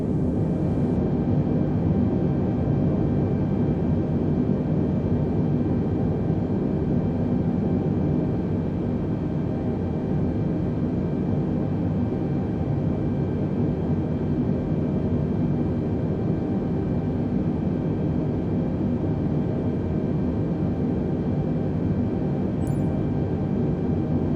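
Jetliner taxiing in Microsoft Flight Simulator, a steady loud engine whine and rumble held evenly throughout with no talk.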